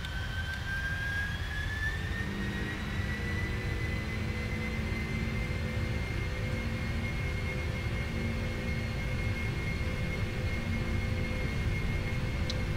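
PMDG 747-400 jet engines spool up in the Prepar3D v4 flight simulator, a steady roar with a whine that rises in pitch during the first few seconds and then holds at a loud, even level.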